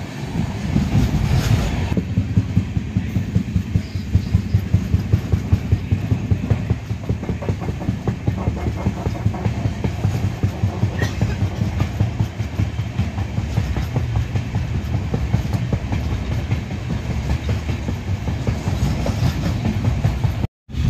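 A train at Parli Vaijnath railway station rolls past close by, loud steady rumble with rhythmic clickety-clack of wagons over rail joints for the whole stretch, cutting off abruptly at the end.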